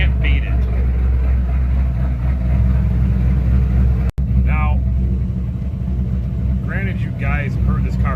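A Ford 3-valve V8 with long tube headers, a catted H pipe and a Flowmaster Outlaw catback rumbles at a deep, steady idle close by, while someone talks over it.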